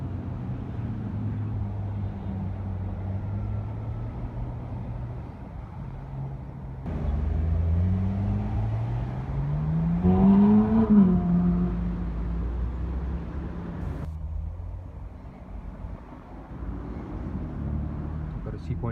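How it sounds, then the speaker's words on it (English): Ferrari 458 supercar drives past on a Cape Town street among other traffic, its engine note rising and swelling to a peak before fading, with people talking over it throughout. "I think we've got a Ferrari down there as well. And there it is, 458."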